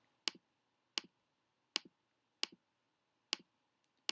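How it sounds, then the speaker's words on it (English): Graphing calculator keys are pressed one at a time in a quiet room, producing five crisp, close plastic clicks spaced under a second apart, with a faint extra tick near the end. "After you type in each number, you're going to hit enter."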